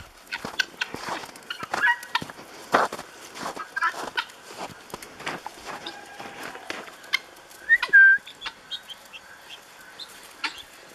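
Guinea fowl give a rapid, harsh chattering alarm call, with repeated clicking bursts and sharp cries, fairly close, plus a few whistle-like notes.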